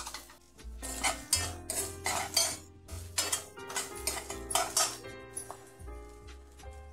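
Chili and onion are roasted and stirred in a pan, with a metal spoon scraping and clinking against it in quick, uneven strokes close by, above a faint background hum and with no talking.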